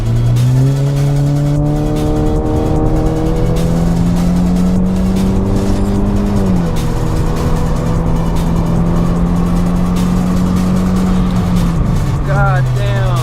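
A Kia accelerates hard in third gear after a downshift from a 40 mph roll, engine note climbing steadily and loud close inside the cabin, with a brief drop at a shift and a voice speaking over it.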